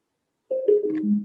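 A phone alarm sounds abruptly after silence, a single clear descending tone sliding down in pitch and cut short after under a second.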